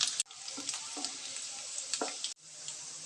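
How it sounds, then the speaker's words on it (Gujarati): Chopped garlic sizzles in hot oil with a bright crackling hiss, broken by a couple of abrupt cuts and light stirring knocks. "લસણને આપણે 1 મિનિટ માટે સાતરી લઈશું"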